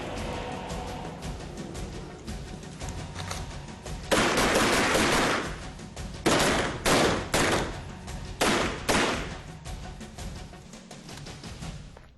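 MP5 submachine gun firing at a range around vehicles: loud, close bursts of rapid automatic fire, several separate strings with short pauses between them over a continuous background din.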